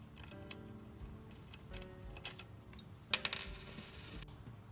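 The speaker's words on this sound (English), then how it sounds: "remove the center bolt here by removing the nut with the provided wrench" A wrench works a nut off the center bolt of a KneeRover tie rod: small metallic clicks and ticks scattered among faint rustling, with one brighter clattering burst near the end.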